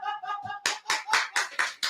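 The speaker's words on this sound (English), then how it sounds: "Clap it up." Hands clap sharply about six times in a steady rhythm, close and loud, right after a few short vocal sounds at the start during a hockey pregame talk show.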